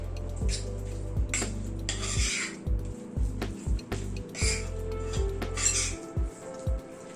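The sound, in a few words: mixing spice masala with a spoon in a bowl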